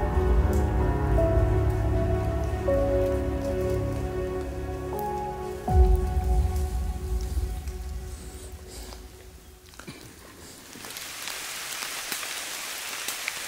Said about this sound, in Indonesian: Hujan lebih cepat turunnya dibanding yang kita duga.